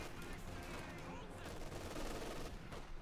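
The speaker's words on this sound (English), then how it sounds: "there's the rifleman engaging up close" Rifle and machine-gun fire crackles in dense bursts during a Company of Heroes 2 battle, a busy, continuous din of combat mixed with talk.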